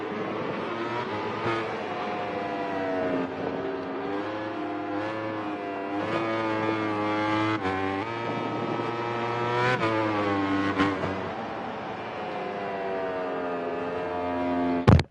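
Race car engines in a racing video game at Vallelunga whine and rev continuously, pitch rising and falling as gears shift, a steady loud synthetic engine drone with no voices.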